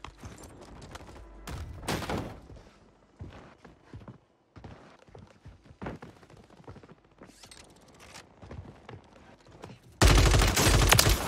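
Gunfire in the shooter game Warzone 3, bursts of shots spread across the scene, with a very loud close burst near the end, mixed with other game sounds.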